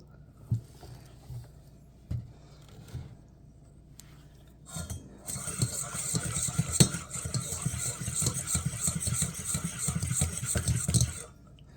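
Chocolate chip cupcake batter with about half a cup of oil is mixed in a bowl, a few soft taps and then a steady, close scraping stir with rapid rhythmic strokes.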